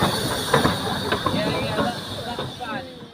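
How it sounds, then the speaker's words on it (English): Heritage railway locomotive slowly backing onto its train at a station, with soft hiss, clanks and rhythmic wheel knocks close by and a steady background hum, while people talk nearby. "Here we see the loco backing onto the train for the second journey"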